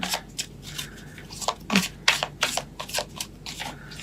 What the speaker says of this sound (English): let me pull 3 cards